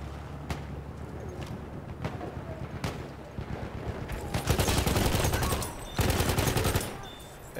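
Rapid automatic gunfire from the Hellriegel submachine gun in Battlefield 1, a few sharp single shots giving way to dense sustained bursts, loud and close, with a brief pause mid-stream.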